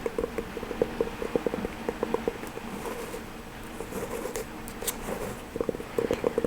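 Steady rain patters down continuously, a dense, even hiss with scattered louder drops, and a few faint bird calls in the background.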